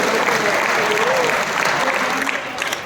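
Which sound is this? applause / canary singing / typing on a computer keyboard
applause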